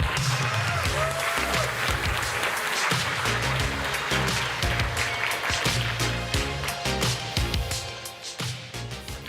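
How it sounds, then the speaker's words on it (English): Conference audience at the Zabbix Summit 2023 applauding to welcome speaker Janne Pikarainen, dense and loud clapping from many hands that holds steady for several seconds before starting to thin out near the end. "let's give a warm wave of applause to Janne Pikarainen"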